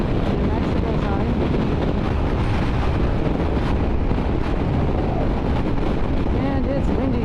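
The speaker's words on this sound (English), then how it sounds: "And it's windy." Strong wind blows steadily across an open roadside on a hot day in New Mexico, a loud, constant rushing buffet against the microphone with no break from start to finish.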